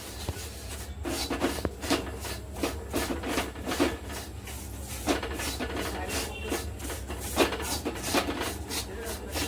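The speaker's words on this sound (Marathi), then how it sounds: "सतत त्याला असं हलवत राहायचंय नाहीतर खाली लागू शकतंय" Sago flour roasting in ghee in a pan on a low flame, stirred continuously with steady scraping and rubbing strokes against the pan, close and fairly loud.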